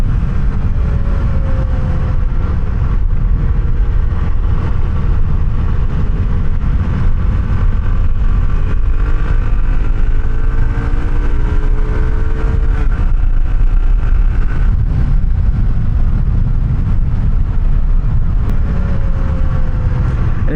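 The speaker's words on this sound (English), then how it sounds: "getting on the throttle on this bike" A Suzuki DR-Z400S motorcycle engine revs hard under throttle, its pitch climbing and falling through gear changes against constant loud wind and road roar.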